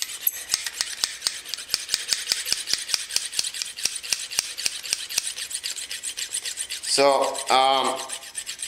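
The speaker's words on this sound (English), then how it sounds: "the company doesn't recommend the back and forth that I'm doing now, but I like to grind away at it" A knife blade is ground back and forth on a Lansky sharpening system, making a steady rhythmic run of raspy scraping strokes, loud and close, followed by a brief spoken word.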